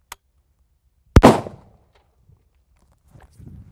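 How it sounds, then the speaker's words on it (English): A single sharp bolt-action rifle shot, loud and close, cracking out with a short decaying tail, followed by faint handling noises. "now that I'm ready to take a shot, I'm gonna bring up the gun, point it in a safe direction"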